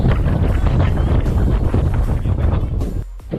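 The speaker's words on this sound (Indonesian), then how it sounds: "Anginnya kencang banget anginnya." Strong wind roars steadily across the microphone during a long cable car ride climbing to 1500 m, a loud continuous rushing with a brief dip near the end.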